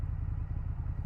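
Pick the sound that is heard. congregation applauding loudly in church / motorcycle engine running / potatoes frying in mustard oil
motorcycle engine running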